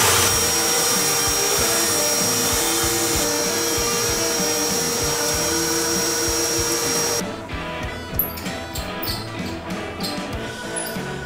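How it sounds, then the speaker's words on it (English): A vacuum nozzle pulls dust from inside a scuba cylinder during inspection: a loud, steady suction roar that drops and turns uneven partway through, with light knocking and fluttering as the nozzle moves in the tank. "again cleaning inside from dust."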